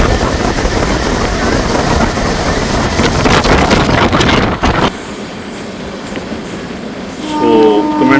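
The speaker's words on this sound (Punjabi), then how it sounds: "ਕੋਈ 112 ਸਪੀਡ ਤੇ ਜਾ ਰਹੀ ਆ ਆਪਣੀ ਟ੍ਰੇਨ" The Amritsar Jan Shatabdi passenger train, number 12053, rushing along at about 112 km/h, heard from on board with a loud, steady roar and rattle, the noise dropping suddenly partway through before rising again.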